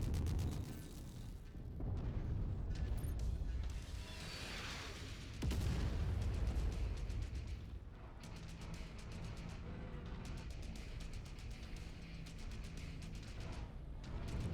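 Tanks firing in the Mechwarrior 5 video game: muffled, distant booms and bursts of explosions roll in heavy waves over a continuous rumbling battle din.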